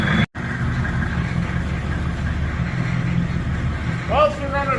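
A crusty crew cab truck's 6.5 engine runs steadily and close by with a rough, uneven idle, and a brief squeaky rising sound cuts in near the end.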